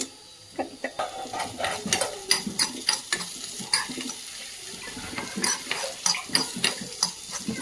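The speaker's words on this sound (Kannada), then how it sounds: "ಇವಾಗ ಏನು ಈರುಳ್ಳಿ ಬೆಳ್ಳುಳ್ಳಿ ಫ್ರೈ ಮಾಡೋಕೆ ಹಾಕಿದ್ದೀವಿ" Onion and garlic frying in a pan, a light sizzle broken by repeated scraping and clinking strokes of a spoon against the pan, close by and irregular in rhythm.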